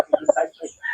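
Ten-month-old gamecock, a medium-size fighting rooster held in a backyard breeder's hands, giving a few short, close clucks in quick succession, followed by a brief rising call.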